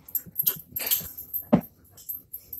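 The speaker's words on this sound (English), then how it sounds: "Oh, you naughty puppy dog." A puppy whimpers and wheezes nearby in a home, with soft breathy whines and snuffles and one sharper yelp midway.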